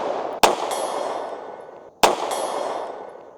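Two sharp, loud gunshots from a super compact Kimber CDS9 9mm pistol firing snake shot shells, spaced about a second and a half apart, each ringing out and fading slowly with no talking.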